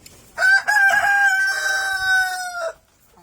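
A rooster from a crossbred BPR and Rhode Island breeding flock lets out a single loud, close crow that lasts over two seconds and cuts off sharply.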